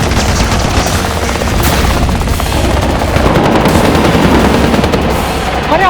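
A missile striking a vehicle in a TV action series, heard as a loud, continuous roar of blasts and rattling gunfire-like bursts with no pauses, filling the whole stretch with dense noise.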